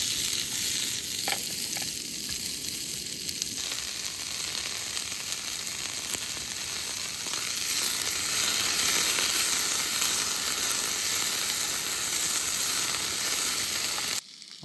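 Butter sizzles and crackles in a hot pan while grilled cheese cooks: a steady, close, unbroken frying hiss that runs for about fourteen seconds before cutting off abruptly.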